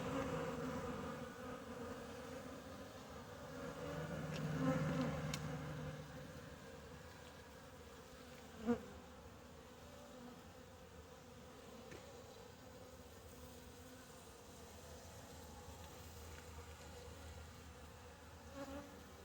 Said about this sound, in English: They're just buzzing along.